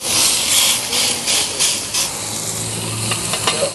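Steaks sizzling on a preheated grill, a steady close hiss and crackle of fat that runs continuously with brief bursts of louder spitting, a faint voice in the background.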